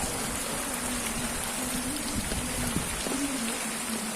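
Heavy rain falling in a village, a dense, steady hiss of downpour and running rainwater filling the whole clip at even loudness, with no talk.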